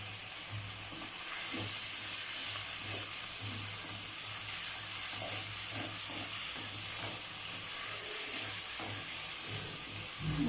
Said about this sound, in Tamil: இது வதங்கிட்டு இருக்கோம்